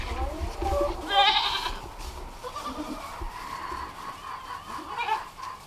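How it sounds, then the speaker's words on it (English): Newborn twin baby goats bleating in a barn, several wavering high cries close by, loudest near the start and again toward the end, with a faint background voice and rustling between calls. "she looks over and notices another mom just had two more baby goats"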